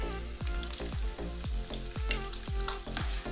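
Andouille sausage fries in oil in a pan on a woodstove, rendering its fat with a loud, steady sizzle broken by rhythmic stirring or scraping strokes about twice a second.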